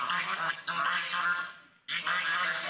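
Geese and chickens kept in a yard at a shelter for displaced people, honking and quacking loudly and continuously near the listener, with a short lull before the calls resume.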